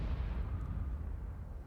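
Tank cannon fire and battle rumble in a World of Tanks style match with an AMX 30 and a Tortoise, a steady low boom and roar filling the short stretch without clear separate shots.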